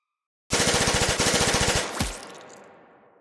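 Sustained automatic gunfire in a short film noir scene, a rapid, loud, close burst of evenly spaced shots for about a second and a half, ending in a heavy final blast and echoing decay.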